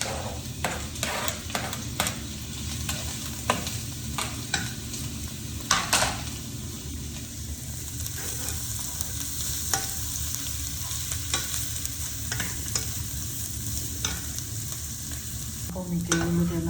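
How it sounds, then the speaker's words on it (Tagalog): Onion, garlic and ginger sautéing in butter in a pan for mussels, a continuous close sizzle broken by repeated scraping strokes of a spatula and a few light clinks of utensils. "Medyo lumutol na po yung sibuyas at saka bawang natin at saka luya. Ginasak na po sila sa butter."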